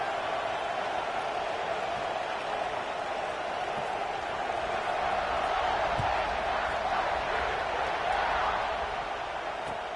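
A large stadium crowd roars continuously in the College Football 26 video game during a kickoff after a touchdown drive, a steady broad cheer that swells slightly midway.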